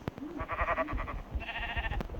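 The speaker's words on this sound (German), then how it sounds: "Da sind Schafe." Sheep bleating in a video game, a few short, fairly close bleats in succession over soft background thumps, with no talk.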